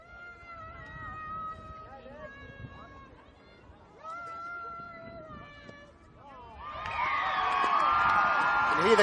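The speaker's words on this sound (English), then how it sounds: "You can hear the crowd go absolutely ballistic" A basketball crowd in the Philippines erupts late in a close game, swelling into loud, sustained cheering and whooping after a quieter stretch of tonal sounds and scattered voices.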